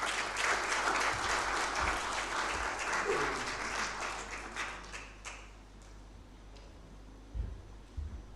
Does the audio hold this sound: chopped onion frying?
no